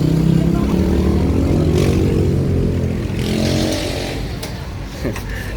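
A Yamaha motorcycle engine runs steadily at a dealership on Quirino Avenue, a loud continuous low rumble that eases slightly toward the end, with people talking over it.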